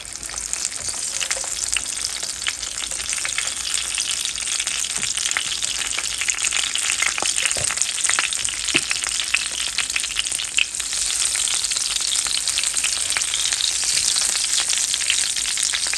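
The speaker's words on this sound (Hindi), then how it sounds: "तो अब हम इसमें बैंगन रख देते हैं" Eggplant pieces fry in hot oil in a pan, producing a loud, continuous crackling sizzle with scattered sharp pops and no talking.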